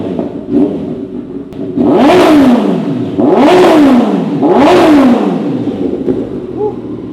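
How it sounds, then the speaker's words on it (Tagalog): A Kawasaki ZX14R with an aftermarket exhaust is revved three times at low RPM, each blip rising and falling as a loud, close, deep snarling roar between idling. "Ito na yung sound check natin. Low RPM."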